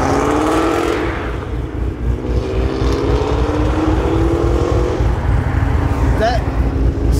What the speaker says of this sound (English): seeing my car, the Shelby, just take off in front of me and hearing it.